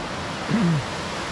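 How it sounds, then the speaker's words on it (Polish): A small mountain waterfall in Podhale keeps up an even, hissing wash of falling water, with a short voiced sound rising briefly over it midway. "Taki wodospadzik."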